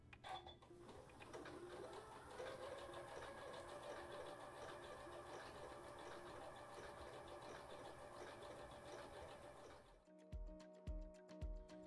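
A Horizon Memory Craft 9480 sewing machine runs a blanket stitch in one continuous, rapid, whirring burst for about ten seconds, then stops abruptly, followed by a few separate mechanical clunks and ticks.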